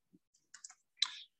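Computer mouse button being clicked: a few faint, sharp clicks spaced out, ending in one louder click, with quiet gaps between.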